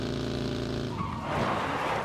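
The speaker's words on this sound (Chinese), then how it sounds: "前面有车，前面有吉普车声音，听到了" A jeep engine hums nearby in the video game PUBG, a steady, droning motor growl that roughens and rises slightly as the vehicle moves.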